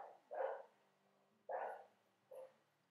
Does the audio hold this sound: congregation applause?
no